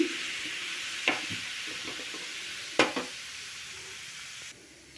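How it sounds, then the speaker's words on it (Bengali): Splashes of water hitting a hot pan with an aloo kulcha, a steady soft sizzle with two sharp crackling bursts as the water meets the hot metal. "জল দেওয়ার সঙ্গে সঙ্গে জলটা এইভাবে ফুটবে।"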